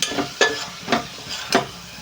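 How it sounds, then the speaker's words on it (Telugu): Spices with coriander powder frying in a pan for cashew paneer, a steady close sizzle with three sharp scraping strokes of a spatula at regular intervals. "ఇది ఒకసారి ఫ్రై చేసుకుందాం"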